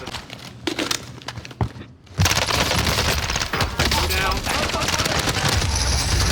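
Dense Call of Duty gunfight gunfire: after a quieter opening of scattered shots, a loud, continuous barrage of rapid automatic bursts and impacts erupts and keeps going, with some voices underneath.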